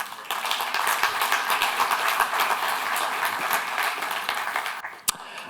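Conference audience applauding panelists at a session on renovation aid schemes, dense sustained clapping from a room full of people, ending with a sharp final clap.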